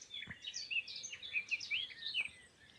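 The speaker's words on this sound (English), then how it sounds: "we can hear the birds singing" Several birds chirp and trill in quick, overlapping high-pitched phrases, moderately close, over a quiet background with a couple of soft thumps.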